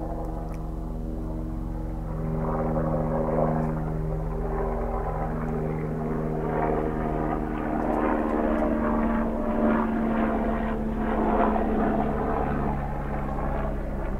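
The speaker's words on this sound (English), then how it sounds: "here comes a helicopter that's going to fuck up the sound" A helicopter's steady rotor drone and engine rumble, loud and sustained, slowly shifting as it passes overhead.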